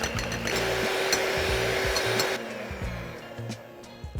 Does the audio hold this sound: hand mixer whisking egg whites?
yes